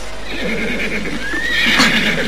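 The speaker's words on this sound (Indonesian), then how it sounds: "dengar suara kuda itu" A horse neighs loudly and close, a rising shrill whinny over a steady background hum, with no talking.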